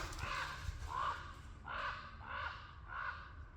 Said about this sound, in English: That is a very noisy crow.